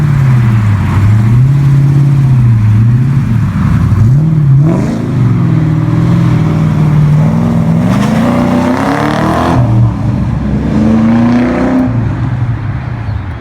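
The Ford TS50's 5.6-litre V8 in Need for Speed Hot Pursuit 2 drones loud and close. Its revs rise, fall and climb again in long sweeps, giving a continuous engine roar with no talk over it.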